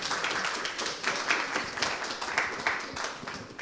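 An audience in a community church applauds a singer at an album launch, a steady patter of many hands clapping at moderate distance, unbroken and without speech.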